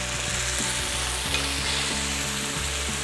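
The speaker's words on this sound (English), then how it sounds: "Now I'm going to turn down the heat to low. I'm going to add 1 tablespoon of soy sauce." Slices of Spam sizzle steadily in a hot pan with soy sauce, a loud continuous frying hiss running throughout with faint scraping and stirring sounds underneath.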